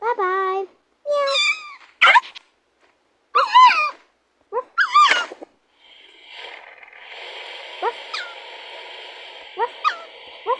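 A cat meows several times in quick, high, wavering calls, then gives way to steady indoor background hiss with a few faint short chirps.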